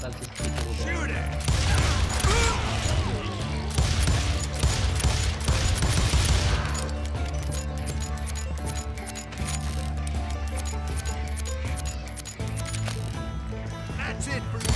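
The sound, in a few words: gunshots from the video game Call of Juarez Gunslinger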